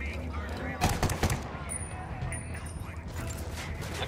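Gunfire in the tactical shooter Ghost Recon Wildlands: a quick cluster of sharp rifle shots, then a rumbling, echoing tail over faint game ambience.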